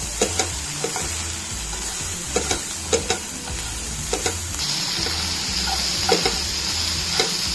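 Onion frying in oil for kanda lasun masala, a continuous sizzle broken by a run of light stirring taps against the pan, the frying growing slightly brighter partway through.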